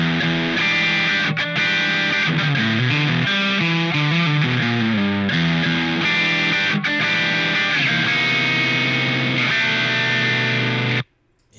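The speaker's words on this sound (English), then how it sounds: "I actually prefer just the regular distortion sound" Electric guitar played through a Boss DS distortion plugin, a loud gritty distorted tone running through chords and single-note lines continuously before cutting off at the end.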